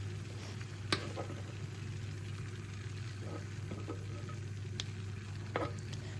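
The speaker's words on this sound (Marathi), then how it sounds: "तर ह्याच्यामध्ये मोठा मी कट करून घेतला आहे 1 मोठा कांदा. तर तो पण आपल्याला याच्यामध्ये परतून घ्यायचा आहे." A large onion, cut into big pieces, sautés in a pan with cumin and garlic for cashew curry. It makes a steady, low sizzle with a few soft stirring clicks and scrapes, and no one speaks.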